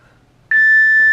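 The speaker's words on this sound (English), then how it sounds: "Stop when you hear the pause or the beep." A single loud electronic beep starts abruptly midway and holds as a steady tone to the end, following near silence.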